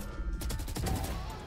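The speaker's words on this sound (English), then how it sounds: "The triple shots." Rapid gunfire bursts in the video game Valorant, sounding as a quick, close cluster of sharp shots over about a second, fairly quiet in the mix.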